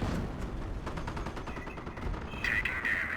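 Rapid gunfire crackles in a Company of Heroes World War II strategy battle, a fast rattling burst of shots at moderate distance over battlefield noise, followed by a brief whining tone.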